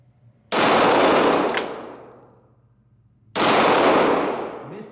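Two loud, sharp pistol reports from a Springfield XDM Elite and a Glock 17 Gen 5 ring out a few seconds apart outdoors, each with a long fading echo.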